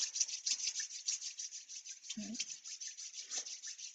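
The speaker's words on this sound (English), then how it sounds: "So let's just rub our palms together." Palms rub together steadily in a continuous, close dry rasp during a guided meditation, with no talking.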